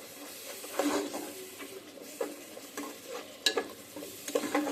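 Biryani masala with red Kashmiri chilli powder being sautéed in a pan for a birthday biryani, with scraping stirs and a few sharp utensil knocks over a low, steady sizzle.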